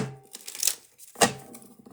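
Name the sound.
shuffling playing cards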